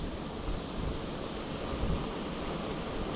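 A headwind rushes past a rider coasting on a Jetson Pro Max D20 electric bicycle. It is a quiet, steady broadband whoosh with soft low gusts throughout.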